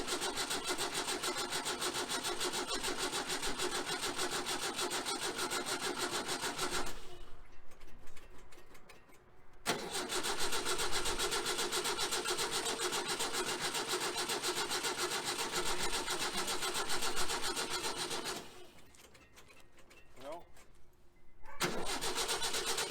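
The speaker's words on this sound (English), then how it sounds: "So let's see if we can get this thing fired up." A 1966 Volkswagen Type 3 Fastback engine, freshly installed and jump-started, cranks and fires up into a steady running roar, dropping out twice for a few seconds before catching again.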